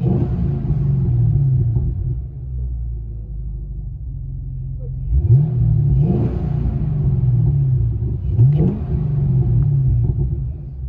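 Deep V8 rumble from a 2014 Chevy Camaro SS with a 6.2L engine and Flowmaster Flow FX dual exhaust, heard from inside the cabin: a steady idle burble broken by three sharp revs rising and falling near the end.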